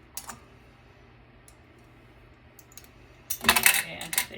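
Plastic clips and screws snapping and popping off a Hewlett-Packard PC case being scrapped, a few faint ticks early on, then a dense cluster of sharp clicks and rattles near the end.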